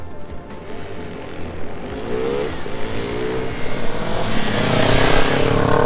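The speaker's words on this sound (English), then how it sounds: "My goodness, that's a loud exhaust." A loud vehicle exhaust roars and builds, with a rising engine drone passing close by and growing louder toward the end.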